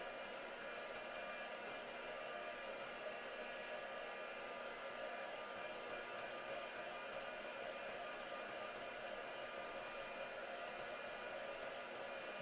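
A hair dryer blows steadily on artwork to dry it, a continuous even whooshing drone that stays constant and fairly close throughout, with no talking over it.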